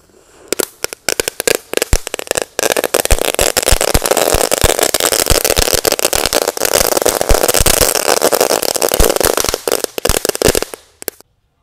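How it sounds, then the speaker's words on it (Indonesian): Telur dino pretek firecrackers, two packs set off inside a hole in the ground, burst into a long, loud run of rapid crackling pops lasting about ten seconds before cutting off abruptly. "kita nyalakan adalah mercon telur dino pretek"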